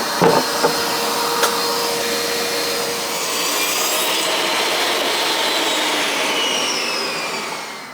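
A bandsaw rips a board at a 22.5-degree angle for ramp sideboards, giving a loud, steady, continuous rasping cut with a whining motor hum that runs unbroken throughout.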